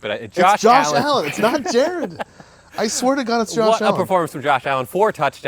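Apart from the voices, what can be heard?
No everyday noise stands out behind the speech.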